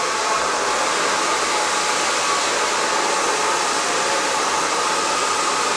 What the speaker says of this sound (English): I really want to focus on that volume, so I'm going to dry this bottom part first.